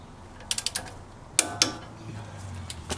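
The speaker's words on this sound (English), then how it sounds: "he's going to torque it to 80 foot-pounds" A torque wrench tightens the castle nut on an upper ball joint during a Toyota manual hub conversion, giving a quick run of close ratchet clicks, then a couple of sharper metallic clacks and faint creaks.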